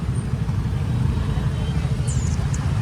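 Road traffic on the street by SM Joshi College, a steady close rumble of passing vehicles with a few faint high horn or brake tones near the end.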